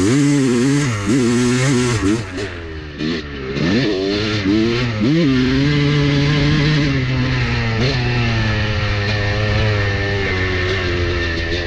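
A Honda two-stroke motorcycle engine revs loudly and close, rising and falling through several throttle blips before settling into a steady buzzing high idle with a raspy, crackling tone.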